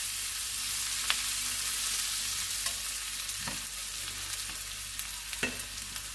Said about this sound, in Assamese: মই এতিয়া বিলাহীখিনি গলি যোৱালৈকে ভাজি থাকিম।